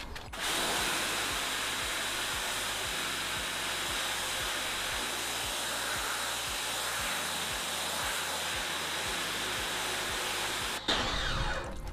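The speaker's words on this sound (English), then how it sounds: "Let's see if the pressure washer can remove this." A pressure washer blasts a painted car wheel, a loud steady high-pitched hissing spray with a low pump drone pulsing underneath, running almost continuously before briefly cutting out near the end.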